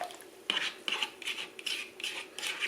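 A utensil scrapes and swishes around a bowl as dry yeast is stirred into warm water, six or seven rhythmic rasping strokes in quick succession, close and fairly loud.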